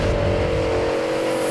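A Y62 Nissan Patrol climbing Mt Skene holds a loud, sustained engine roar under heavy throttle, steady and close with a droning tone throughout.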